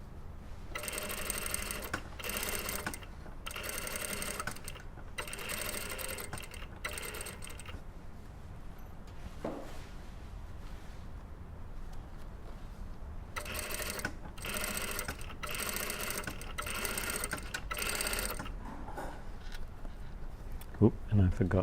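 A sewing machine stitches a pencil skirt's inside waistband facing in black thread, running in several rapid, loud mechanical bursts of a few seconds each, separated by quieter pauses where a voice speaks faintly.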